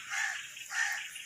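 Rock sparrows feeding on scattered rice give two short, clear chirping calls about half a second apart against a quiet background.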